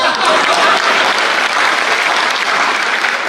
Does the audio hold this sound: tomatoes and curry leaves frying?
no